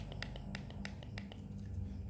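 Crisp clicks from the buttons of a Maxto M2 motorcycle intercom, about eight sharp, evenly spaced presses in a quick run, close and fairly quiet over low background hum.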